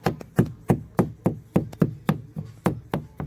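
A fist knocks on a car door panel fitted with sound deadening, about a dozen solid, dull thuds in a quick, even rhythm, each one short and damped, close to the microphone and with no speech.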